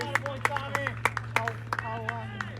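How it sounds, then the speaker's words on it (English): Scattered clapping from a small crowd at a Mammoth Palm Springs baseball game, sharp irregular claps over steady background hum and babble, with voices and cheering mixed in. "We have people clapping."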